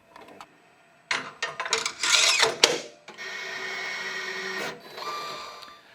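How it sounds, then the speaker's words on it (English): An ICE Zodiac Eagle thermal transfer overprinter calibrating after its ribbon cassette is reinserted: sharp clicks and clacks, a burst of rattling mechanical movement, then a steady motor whir that stops with a click, close and alone. "Let's put the cassette back in and allow the printer to calibrate."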